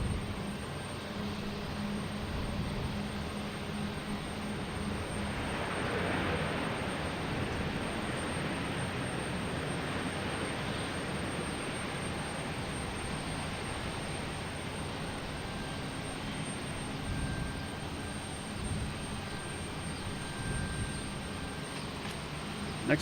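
A passenger airliner arriving from Charlotte touches down at Boston Logan Airport with a slight bounce, heard as a steady, distant broadband jet roar that holds for the whole stretch without talk.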